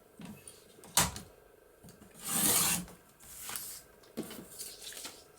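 Several short, quiet rasping cuts and slides as paper is trimmed for an envelope booklet, with a sharp snip near the start and a longer scraping swipe in the middle, separated by near silence.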